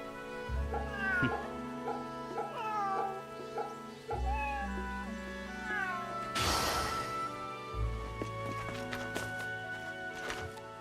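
A cat meowing while being petted in the video game Fate/Samurai Remnant, several soft, rising meows at moderate distance over a low background score, with a brief noisy burst midway.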